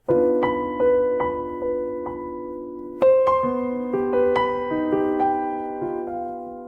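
Piano plays a series of sustained minor major seventh chords, each struck cleanly and left to ring, with a richer, brighter chord midway through; no voices.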